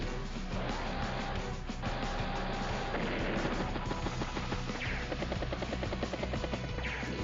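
Battle effects from the Advance Wars: Days of Ruin strategy game as a command tank is struck: a dense run of crunching impacts and rattling blasts, steady and moderately loud throughout.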